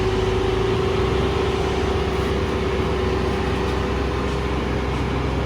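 Stock Audi RS7 engine running steadily at close range, a dense continuous low rumble with a faint steady tone above it, with no voices.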